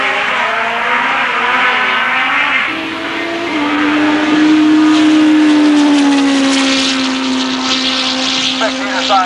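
Drag race at St Thomas Dragway in 1986, a 750 Honda against a King Dart: loud engines howling and climbing through gears side by side down the strip, under a track announcer's voice.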